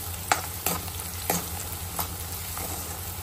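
Turmeric stirred into poha in a pan, a spoon scraping and knocking in a few close distinct strokes over a soft sizzle, no one speaking.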